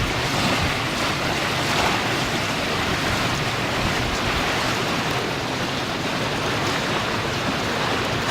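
Strong wind and waves on a sailing boat at sea under reefed main and genoa off the Moray coast, a loud, constant roar of gusting wind and rushing water with wind buffeting the microphone.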